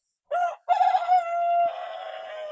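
A rooster crows in a backyard chicken coop with nesting boxes for hens, a single loud, close cock-a-doodle-doo made of a short opening note, a brief pause, then a long drawn-out call.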